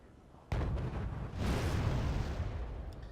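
Cluster artillery from a Mars rocket launcher in the strategy game Wargame Red Dragon: a sharp sudden impact followed by a second rumbling burst and a rolling, crackling roar of scattered detonations.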